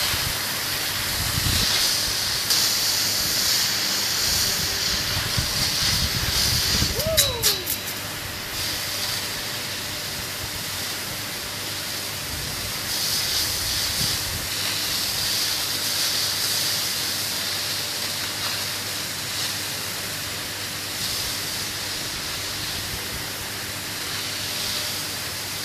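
High-pressure water washer spraying a yard, a steady, loud hiss of rushing water that runs unbroken for the whole stretch, with a brief squeal midway.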